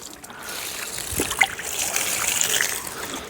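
Water trickles and splashes onto the soil around a newly planted jackfruit sapling, a steady close pour with small splatters throughout.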